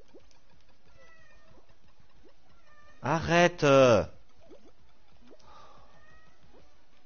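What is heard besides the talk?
cat Tiro meowing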